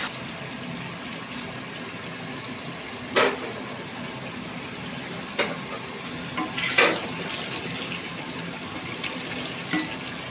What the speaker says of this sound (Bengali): এই যে আমরা 20 মিনিট পরে এখন উল্টাইছি, উল্টাইয়া সুন্দর করে লাড়িয়ে দিলাম